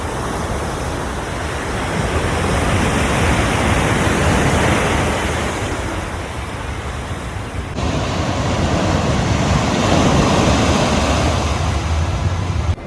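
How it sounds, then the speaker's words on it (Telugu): Sea waves crash continuously onto the beach at Vizag, a loud, dense roar of surf with wind rushing across the microphone and no voices. "ఒకసారి బీచ్ దగ్గర పోయి ఆ అలల సౌండ్ ఒక్కసారి విన్నామనుకోండి"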